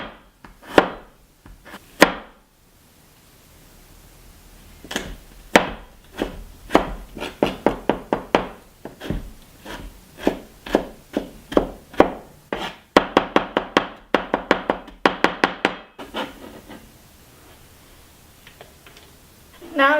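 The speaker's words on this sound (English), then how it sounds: "Now let's chop the ginger." A knife chops ginger on a cutting board: steady runs of crisp, close wooden knocks, first slower, then faster and denser, with short pauses between runs.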